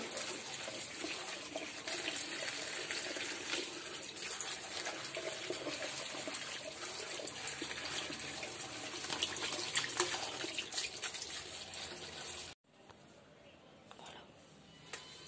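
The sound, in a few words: washing leafy greens in a basin of water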